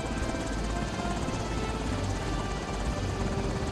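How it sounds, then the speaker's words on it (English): Helicopters pass overhead in the VR game Air Force Special Ops Nightfall, a loud, steady rotor thrum filling the whole stretch without a break. "You know, helicopters going over."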